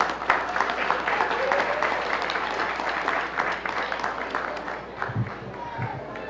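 An audience at a school committee meeting, including an elementary school crowd, applauds in a dense, steady patter of clapping that lasts throughout, with voices talking over it.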